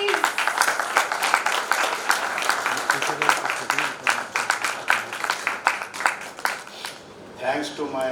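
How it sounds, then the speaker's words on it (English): An audience at a panel discussion in Aurangabad breaks into dense, sustained clapping that thins out and fades toward the end. "Louder applause, please."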